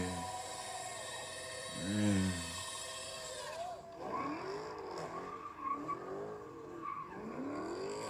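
A car does a burnout with loud, wavering tire squeals that rise and bend in pitch, surging and easing over several seconds, mixed with engine noise. Voices can be heard faintly.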